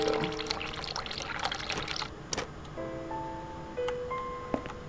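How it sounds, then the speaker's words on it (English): Hot water running and pouring from a sink tap in the video game The Cat Lady, with small clinks and bright electronic tones layered over it. "Turn hot water on."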